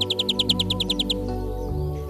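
A European greenfinch sings in Côtes d'Armor, Brittany, with a quick, even run of about a dozen bright chirps followed by a drawn-out, buzzing note, clear and fairly close.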